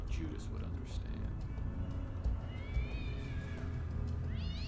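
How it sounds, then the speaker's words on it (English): Cat meowing in the game Tesla Effect, a few drawn-out rising and falling meows over a dense mechanical background with talking. "Oh my god, there's a cat watching me."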